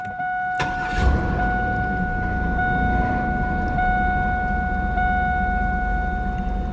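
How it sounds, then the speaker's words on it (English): A car engine runs at a smooth, steady idle with a low continuous rumble and a faint electrical whine. The car has a small exhaust leak, and a sharp click is heard near the start. "the car is actually running smooth"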